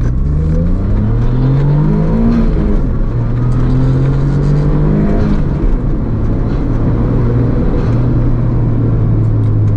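A Suzuki Cappuccino kei car accelerates hard through the gears, its engine note rising and dropping with each shift, loud and close throughout with a steady road rumble beneath.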